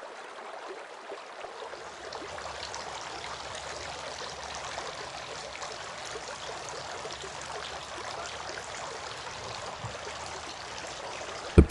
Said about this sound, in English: Washing the beard.